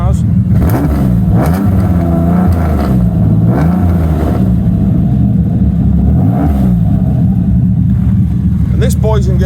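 A TVR Tamora sports car with a 350 bhp straight-six engine revs repeatedly, loud rising and falling snarls over a deep idle rumble, close to the listener.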